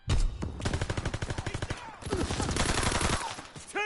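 Rapid video game gunfire rattling in dense automatic bursts, loud and close, with a brief pause before another long sustained volley of shots.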